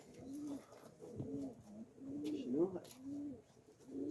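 Finnish roller pigeons coo in soft repeated rolling calls, close but quiet, in a steady pattern of short phrases with faint background noise and some chatter.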